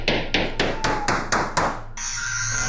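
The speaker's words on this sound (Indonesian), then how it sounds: "Suara palu sahut-sahutan terdengar." Hammers strike repeatedly at a construction site during a house renovation project at night, six sharp evenly spaced blows ringing out close by, followed by a steady high whine that suggests a grinder cutting metal.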